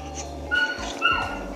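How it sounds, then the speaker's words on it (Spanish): Dogs bark and yip in a neighbour's yard, a few short whimpering, high-pitched yelps heard at moderate distance over a steady low hum. "Si escuchan que hay perros ladrando, es que mi vecina los tiene en el patio"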